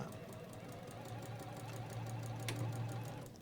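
A sewing machine stitches slowly, its needle tapping out an even, regular rhythm over a low motor hum, quiet and close.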